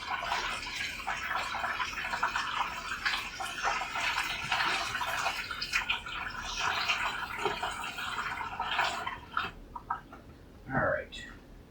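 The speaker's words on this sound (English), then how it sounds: "I'll pour a little bit in to get this bentonite off of there where it kind of got stuck." Warm water poured into a container to dissolve stuck bentonite during home winemaking, a continuous splashing rush that fades near the end with a few thuds and a brief sound.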